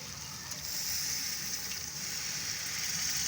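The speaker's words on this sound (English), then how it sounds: "We can now add our tomatoes, our blended tomato." Blended tomato pours into a hot pot for a simple carrot soup, giving a steady, even sizzle and hiss that holds close and moderately loud for the whole stretch, with no talk over it.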